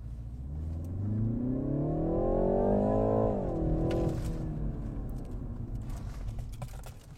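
A BMW 330i M Sport accelerates hard in an empty parking lot, its engine note climbing steadily in pitch for about three seconds before easing off into a loud, sustained rumble.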